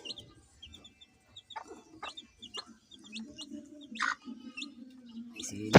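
Labuyo junglefowl hen clucking near her week-old chicks, low repeated clucks mixed with the chicks' high thin peeps, close and moderately loud with no talking.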